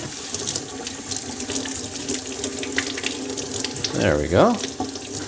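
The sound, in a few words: tap water running over squid in the sink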